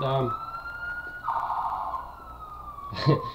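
An ambulance siren holds a long, steady wail at moderate distance. Talk occurs briefly at the start and again near the end.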